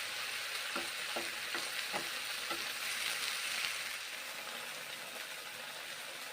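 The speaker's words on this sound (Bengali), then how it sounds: "শুশুনি শাকগুলো এখন রান্না করছি" Shushuni greens cook in hot oil with garlic, a soft continuous sizzle with a few light scraping stirs of the spatula early on, then steady quiet frying.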